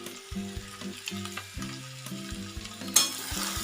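Radish and shrimp fry with rice flour being stirred in a pan, sizzling under rhythmic spatula scrapes and knocks, close and clear, with a sharper clatter near the end.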